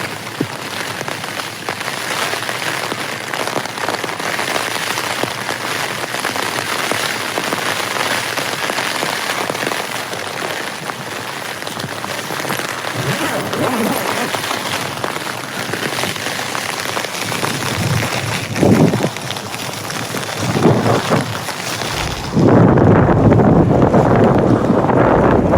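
Heavy rain drumming steadily on a tent while wild camping, a dense constant hiss with gusts of wind buffeting the fabric and microphone, growing louder and rougher near the end.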